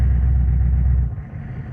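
A Chevrolet K3500 diesel engine idles cold at low RPM with a loud, deep, steady rumble close by, easing off slightly near the end.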